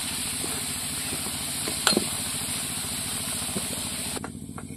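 Salted potatoes frying in hot oil for a village-style chicken curry, giving a constant close sizzle and hiss with a brief stirring clatter near the middle before the frying noise thins out.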